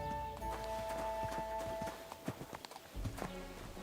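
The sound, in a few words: horse in video game Kingdom Come Deliverance 2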